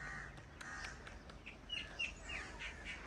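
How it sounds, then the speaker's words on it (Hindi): Pigeons chirp and call faintly against a steady outdoor village background as they are flown, with a few brighter tweets and wingy flutters toward the end. "आज सुबह सुबह ही दोपहर के टाइम में कबूतर उड़ाए जा रहे हैं"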